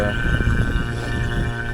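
A vacuum pump pulls a vacuum on an HVAC system during filter line drier replacement, giving a loud, steady humming drone with a throbbing low end that runs unbroken throughout.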